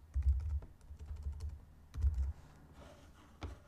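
Keystrokes on a computer keyboard while entering a page name in a website builder, two short bursts of quick, close clicking separated by a pause, with no talking.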